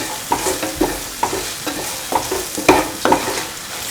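Salt is mixed into instant pickled beans with Kashmiri chilli, mustard and fenugreek powder. Close, rhythmic scraping and stirring strokes repeat about twice a second, loud and clear with no voices.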